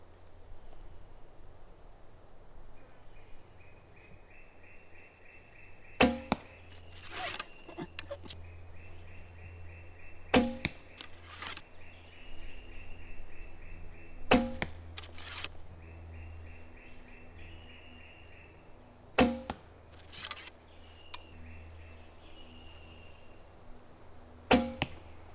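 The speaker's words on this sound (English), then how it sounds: "I can hear and see the arrow flying differently" Arrows loosed from a traditional bow during an archery session, arriving as sharp percussive thwacks in small clusters every few seconds, over a constant background of chirping crickets outdoors.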